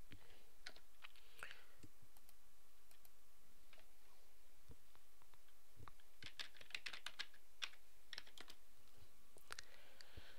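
A user ID and password are typed on a computer keyboard in quick, irregular bursts of close, crisp key clicks over a quiet room hum, with short pauses between runs and no voices.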